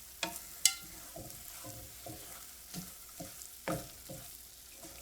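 Toasted corn sizzles softly in a pan as it gets a quick stir after the heat is shut off, with quiet scraping strokes and small clinks over a faint, steady fry.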